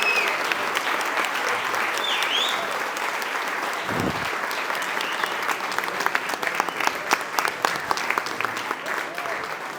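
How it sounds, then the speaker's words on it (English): Crowd at a Town of Babylon spring fundraiser gives a sustained round of applause for the deputy supervisor, dense clapping that holds steady and grows more scattered toward the end, with voices mixed in. "Give a round of applause to Tony Martinez, our deputy supervisor"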